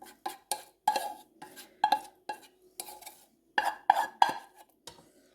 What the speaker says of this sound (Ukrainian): Висипаю зварену кашу